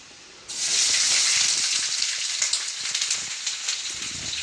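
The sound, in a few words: onions sizzling as they are added to the pan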